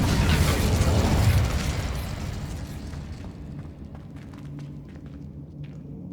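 An Incendio fire spell cast in the Hogwarts Legacy video game bursts out as a loud, broad whoosh and rumble, then fades over several seconds into a lower crackling tail.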